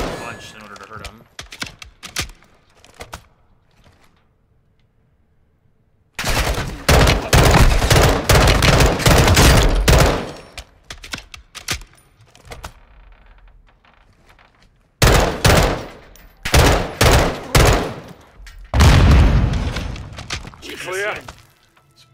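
Gunfire from a rifle in Modern Warfare II hammers an armored enemy in loud, close, rapid bursts separated by short quiet gaps, with speech heard between the volleys.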